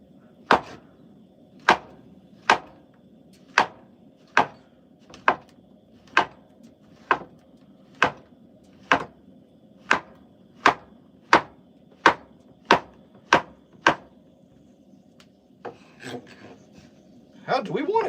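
A knife chops portobello mushrooms on a board in a cabin kitchen, sharp close strikes landing in a steady, evenly spaced rhythm, about twenty cuts, then a brief scraping shuffle at the end.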